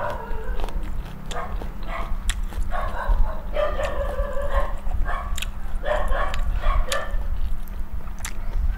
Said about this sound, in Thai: จะมีเสียงหมาเห่าแน่เด